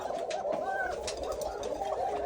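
Pigeons on a farm coo softly in a low, steady murmur, with a few brief higher chirps over faint background noise.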